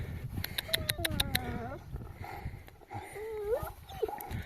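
Two dogs meeting, one of them about two years old, with short close barks and yelps early on, followed by whining, rising yelping calls amid a person's voice and handling noise.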